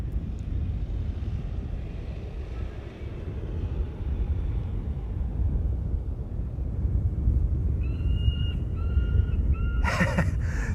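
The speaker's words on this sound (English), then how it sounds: "that's sound effects from the car of the bird controller." An airport bird controller's car at Amsterdam Schiphol plays bird-scaring sound effects: a few distant, repeated chirping calls rise near the end over steady wind and low aircraft rumble, then a short, sharp burst.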